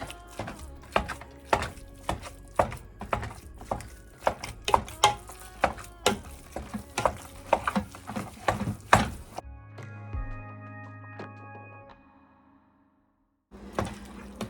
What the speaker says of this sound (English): We're just using our meat masher. We're just gonna mash this all up.